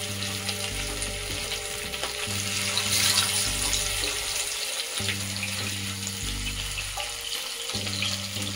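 Fish pieces frying in hot mustard oil in a pan for a fish curry, a steady crackling sizzle running throughout with no talk.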